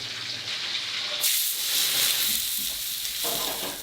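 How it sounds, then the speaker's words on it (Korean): Vegetables stir-fried in a frying pan over a flaming wok-style burner by a chef in a Marine Corps kitchen, with a loud continuous sizzle and hiss that surges abruptly partway through, close and steady. "화려한 불쇼를 선보이며 프라이팬 위에서 야채를 볶아냅니다"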